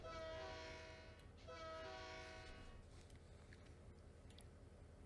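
A simulated train in Trainz Railroad Simulator 2019 sounds its horn in two sustained blasts, then rolls on with a steady low rumble of rail noise.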